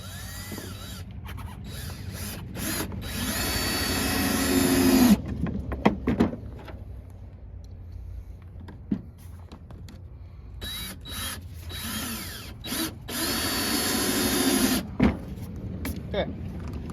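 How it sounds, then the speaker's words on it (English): Cordless drill whirring in two bursts as it drives two screws into a bucket trap, a longer run followed by a shorter one, with clicks and handling noises between and a voice speaking. "And just put 2 screws in and call her good."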